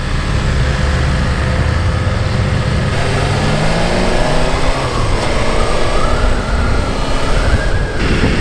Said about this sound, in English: I'm just using the quick shifter now. It's so smooth compared to the RS.